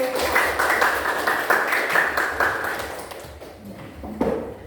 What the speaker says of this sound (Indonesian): Terima kasih, tepuk tangan dulu.